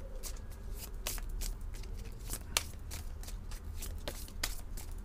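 A tarot deck being shuffled and cut by hand, with repeated crisp riffling bursts and soft card slaps at close range, steady and fairly quiet with no talking.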